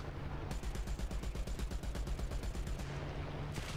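A tank's gun fires at an SB2M plane in War Thunder ground battles: a long, rapid, evenly spaced run of loud, close shots that stops briefly near the end before another burst starts.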